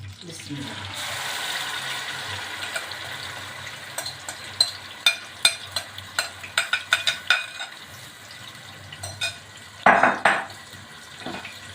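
Ingredients for Kashmiri beef biryani are sautéed in a pot, with a steady frying sizzle under sharp clinks and scrapes of a spoon against metal, arriving in quick clusters and one louder clatter near the end.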